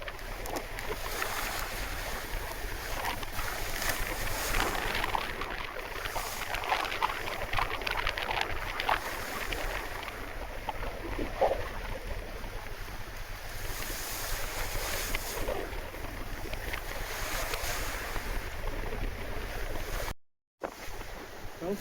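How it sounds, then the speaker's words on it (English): An Oyster sailing yacht under way in a sunny breeze at sea, with continuous rushing water and waves along the hull and gusty wind buffeting the microphone, steady and close. "today's a nice sunny sailing day. We're out of the tropics, a little bit more breeze"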